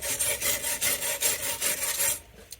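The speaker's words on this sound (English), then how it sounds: "get my wire brush. Go across it in 2 directions instead of just going all this way" A wire brush scrubs rust and dirt off a metal garden tool in rhythmic, close, rasping back-and-forth strokes, about a dozen in quick succession, before stopping abruptly.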